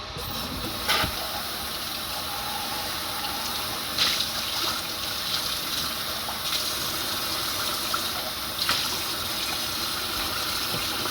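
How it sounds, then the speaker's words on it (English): Tap water running steadily for rinsing, a loud continuous stream with a few brief splashes and knocks, close and with no talk. "And then rinse."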